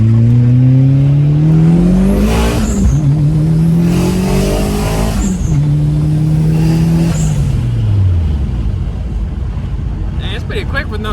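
A turbocharged all-wheel-drive Audi sleeper with four people aboard accelerates hard without nitrous, its engine note climbing through the gears in three rising pulls with brief shift dips, loud and close from inside the car.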